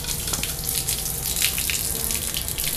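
Water pours steadily into a heavy potted houseplant being filled until it drains from the bottom, a continuous close splashing trickle with no talk.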